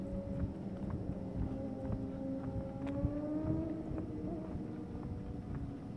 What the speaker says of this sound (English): I hope you probably can hear the motorcycles.